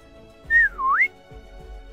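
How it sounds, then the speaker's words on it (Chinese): A person whistles a single short tune, a sliding note that dips and then rises again, loud and close, with faint low rumble and thuds around it. "而胆有少少粗嘅人就会吹住口哨就讲"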